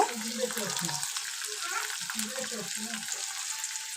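Chopped tomatoes and onions fry in a pan with a steady, close hiss, while a low, uneven scraping and bubbling texture rises and falls throughout the four seconds.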